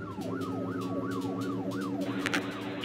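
Police car siren from a chase in the video game Amok Runner, a loud rising-and-falling wail cycling rapidly and evenly, with engine noise beneath and a brief clatter near the end.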